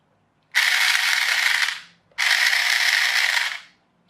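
A gear mechanism with badly meshing teeth runs in two loud bursts of about a second and a half each, a dense harsh rattle that winds down at the end of each run.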